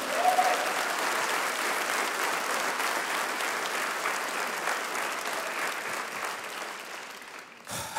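A church congregation claps loudly and steadily for about eight seconds, a dense wash of applause from a large crowd that tapers slightly at the end.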